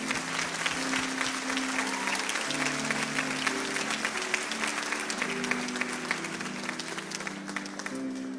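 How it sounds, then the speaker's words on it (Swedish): An audience applauds a woman invited up to sing at a gathering. The clapping is steady and dense, and a sustained tonal hum runs underneath. "Låt oss ge henne en applåd."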